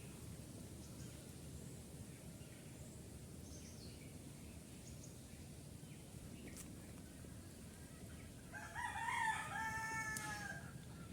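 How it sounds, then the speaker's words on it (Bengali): A rooster crows once near the end, a clear rising call over a quiet, faint outdoor background. "এদিকে মোরগের ডাকে ভোর নয় দুপুর হচ্ছে"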